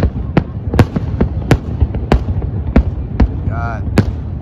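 Fireworks at Yas Bay on Yas Island, Abu Dhabi, celebrating the UAE's 50th year: loud sharp bangs burst about every half second over a low rumbling background, with a brief voice-like tone near the end.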